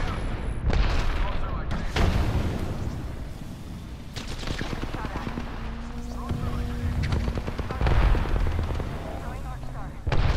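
Frag grenade explosions and gunfire in a squad-based shooter video game, with booming blasts and rattling shots mixed among constant battle noise while players talk.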